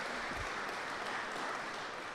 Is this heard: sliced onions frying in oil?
no